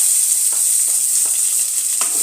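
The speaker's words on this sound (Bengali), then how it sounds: "হালকা একটু পেঁয়াজ কুচিটা ভেজে নেব।" Chopped onion crackles in hot oil with whole garam masala for an egg and potato curry, a loud, constant close-up sizzle broken by a few soft scraping stirs.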